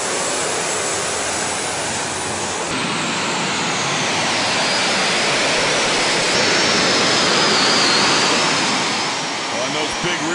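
A super modified pulling tractor at a Lucas Oil Pro Pulling League event roars at high RPM as its big rear tires squat and dig in, a dense, loud, sustained engine blast with a commentator's voice under the noise.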